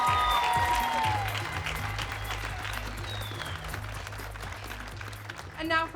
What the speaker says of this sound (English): Let's hear another round of applause for those Fitting and Alterations students